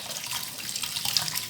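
Tap water pours steadily into a cooking pot, a continuous close hiss and splash with no voices.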